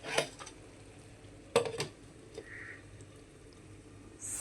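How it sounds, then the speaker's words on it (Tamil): A lid lands on a pan of Chettinad-style prawn thokku with a few sharp metallic clanks and clinks, close and separated by quiet stretches. "இப்போ மூடி போட்டுடலாம்"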